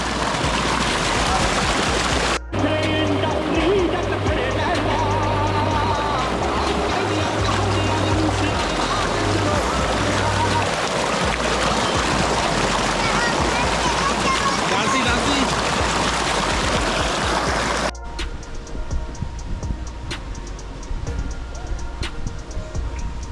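Water gushes loudly and continuously from a tubewell motor pipe, a dense close roar lasting over twenty seconds, with a short break near the start and a drop in level near the end, while people talk over it.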